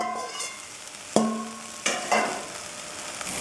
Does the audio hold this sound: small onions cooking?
yes